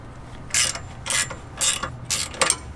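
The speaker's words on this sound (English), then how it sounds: "there's this clamp nut that we're gonna need to loosen" A 15mm ratcheting wrench turns a clamp nut on a Jeep JL Wrangler drag link, making four short, bright clicking bursts in a steady rhythm, heard up close.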